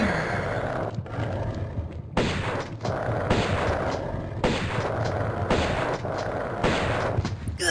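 Bursts of gunfire in the video game Tomb Raider, loud, close and sustained in several stretches broken by brief gaps, with a dense, rumbling texture.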